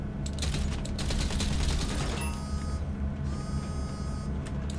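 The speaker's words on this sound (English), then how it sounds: "Just quietly shooting the consoles." Rapid crackling bursts of gunfire in a GTA 5 Online heist as consoles are shot, steady machine hum and whirring underneath, the shots clustered in the first half then sparse sharp cracks later.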